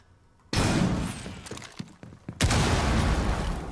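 Sustained automatic gunfire shooting open a closet in Rainbow Six Siege, a dense, loud burst that breaks briefly and then resumes just as hard, with no voices.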